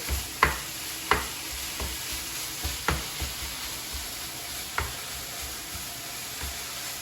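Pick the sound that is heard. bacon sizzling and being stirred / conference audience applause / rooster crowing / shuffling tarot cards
bacon sizzling and being stirred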